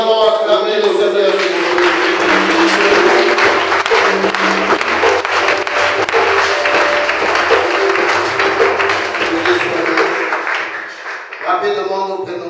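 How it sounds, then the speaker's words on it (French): A church congregation cheers and applauds the Lord, a dense, sustained roar of clapping and voices that holds steady for several seconds before tapering off near the end. "nous allons acclamer le Seigneur"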